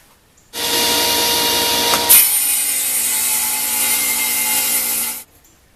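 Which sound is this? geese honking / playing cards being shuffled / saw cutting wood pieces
saw cutting wood pieces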